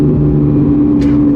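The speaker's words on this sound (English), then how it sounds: "whenever you rev it up, it shoots flames from the sides" A loud car engine that shoots flames from its sides drones steadily up close, a thick low hum with a brief hiss partway through. No talking.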